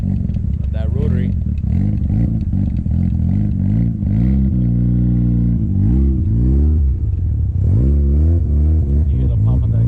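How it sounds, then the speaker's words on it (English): Rotary-engined car exhaust revving in short bursts, rising and falling blips with a clattering burble between them, close by, while people talk over it. "You hear the pump on the exhaust?"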